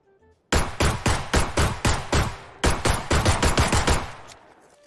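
Rapid pistol or shotgun fire in a shooter video game, a loud run of about twenty close, evenly spaced shots in two bursts, each with a short echoing tail, no voices.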